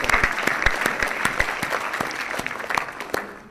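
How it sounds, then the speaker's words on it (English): Steady round of applause from an audience at a research unit live-streamed event, many hands clapping in a dense, even patter with a few sharper claps, moderately close and going on alone without speech. "we should give him another round of applause"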